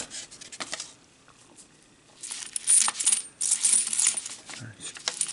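Quarters from a coin roll clink and jingle as they are dropped and sorted by hand, in bursts of close metallic rattling with a quieter pause in the middle, no talking.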